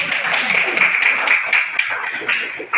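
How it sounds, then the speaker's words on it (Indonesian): A classroom audience in a lesson on heat transfer breaks into loud, dense applause, many hands clapping steadily and close with no talk. "Tepuk tangan."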